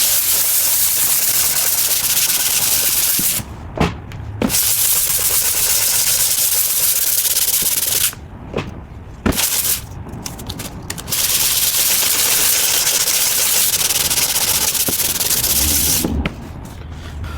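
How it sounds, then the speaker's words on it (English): Sandpaper rubs rapidly over an oil-painted canvas in long continuous hissing strokes, close and loud, broken by a few short pauses. "Okay, let me sand quickly, and then I'll be back."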